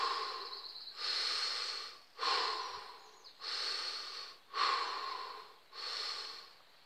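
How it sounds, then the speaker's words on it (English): Cooling breath yoga exercise, with slow breathing in and out through the mouth at close range: six long airy breaths with brief pauses between them, steady and rhythmic, and no talking. "I think it's called the cooling breath, where you're just breathing through the mouth."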